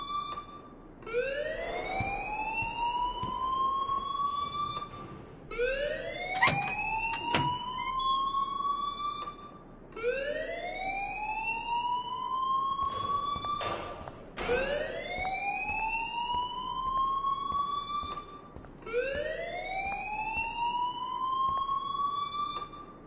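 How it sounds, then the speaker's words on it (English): A school alarm in the video game Life Is Strange wails in five rising, whooping siren sweeps, repeating every few seconds, steady and fairly loud with faint background noise. "please turn off that alarm since that's your job"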